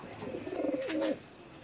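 A Lal Pahari pigeon pair gives one clear, close throaty coo that rises and rolls for about half a second, then stops, leaving quiet.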